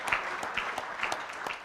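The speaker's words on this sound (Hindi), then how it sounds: "थोड़ा जोरदार तालियों से उनका स्वागत करेंगे" Audience applause greets a speaker coming onstage at a World Environment Day campaign event, a steady dense patter of clapping filling the whole stretch at moderate loudness without speech.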